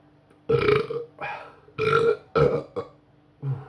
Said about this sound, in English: If I burp, sign of good beer.